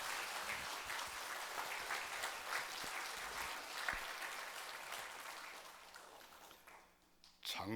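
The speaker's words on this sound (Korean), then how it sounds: "박수 한번 하시겠습니다." Congregation applauding at a church dedication service marking a Methodist church's 100th anniversary, a steady dense wash of clapping from a large crowd that fades near the end before a brief loud burst.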